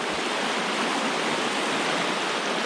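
River water rushes around a stand-up paddleboard, a loud, continuous broadband roar of flowing water with no other sounds over it.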